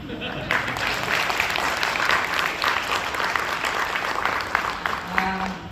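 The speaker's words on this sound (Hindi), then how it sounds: "मुझे लगा सब लोग म्यूजिक के साथ थोड़ी तालियां तो बजाएंगे." A crowd at an event for the launch of a fast-charging battery, inverter and solar products applauds steadily for several seconds, loud and dense, with a voice faintly present underneath.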